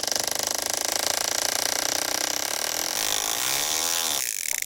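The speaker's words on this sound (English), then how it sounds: "not even my hammer drill can freaking get this" A hammer drill runs continuously with a fast, buzzing hammering rattle and high whine, close up, drilling a hard material at the beach, then cuts off near the end.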